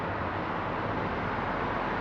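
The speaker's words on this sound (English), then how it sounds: "Please excuse the road noise." Road traffic in Tewkesbury town centre makes a constant broadband rumble and hiss, a steady wash of passing vehicles with no distinct single pass, heard alone without talking.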